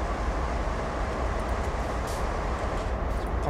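Oil tank train rolling past in the Train Sim World game, CSX heavy haul yard: a steady, loud low rumble of rail cars that holds for the whole stretch, with faint high clanks near the middle and no talk.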